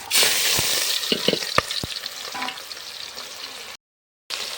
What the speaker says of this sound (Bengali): এখন তরকারিটা করে নেব, তার জন্য দিয়ে দিব পেঁয়াজ। তেলটা আমার গরম হয়ে গেছে।